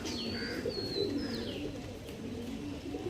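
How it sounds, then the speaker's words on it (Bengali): A female pigeon coos close by in low, rolling notes, while thin high whistling chirps sound above in a few brief calls. "তো দেখে নাও এই একটা মাদি পায়রা ফিমেল"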